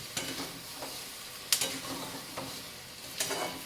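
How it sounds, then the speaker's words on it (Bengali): A sugary mixture for a chalta pickle is stirred in a pan, soft continuous sizzle punctuated by a few distinct spoon scrapes and knocks against the pan. "এটা যতক্ষণ না শুকাবে ততক্ষণ কিন্তু এটা নাড়তে থাকতে হবে"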